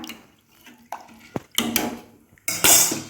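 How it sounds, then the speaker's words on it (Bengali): A pot of water set on a stove with rice tipped in: close metallic clanks and knocks, then a louder rushing rattle of grains pouring into the water. "ভাতের জলটা বসিয়ে দিলাম, চাল ফেলে দিলাম"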